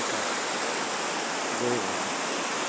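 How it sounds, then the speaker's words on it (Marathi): Loud, steady roar of a waterfall in the Himalayas on the route toward Gangotri fills everything, a dense continuous rush of crashing water with a brief faint voice buried in it. "सीताराम धबधबा"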